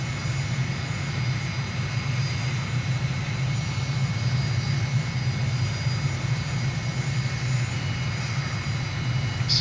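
Jet aircraft in a flight simulator game approaching to land at Cat Island in the Bahamas with the air brake out, a steady loud engine roar and rumble holding evenly throughout, no talk.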